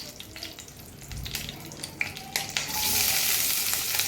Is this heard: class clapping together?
no